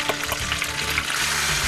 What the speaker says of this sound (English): Gently stir it all together.